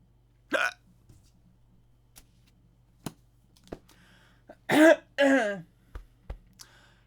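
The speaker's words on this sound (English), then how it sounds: "for my hiccups, the only thing that will stop them is not talking for a while" Several sharp, isolated hiccups from a person in a quiet room, spaced irregularly, including a couple of louder, longer throaty ones near the end over a faint steady hum.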